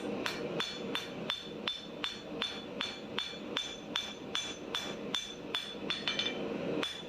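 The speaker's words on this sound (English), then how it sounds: "That's just some gentle hits with this. This hammer has a very wide flat face." A wide flat-faced hammer planishes steel knife stock in a steady, even rhythm, nearly twenty light ringing taps in a row, close up and alone.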